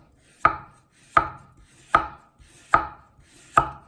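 Five sharp knife chops through a carrot strike a cutting board at an even, unhurried pace, each a crisp thud with a short decay, close and clear.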